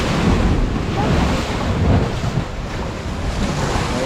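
Ocean water rushes in over rocks at the shore in Hobe Sound, Florida, a loud churning roar of surf mixed with gusting wind buffeting the microphone, swelling and easing in waves.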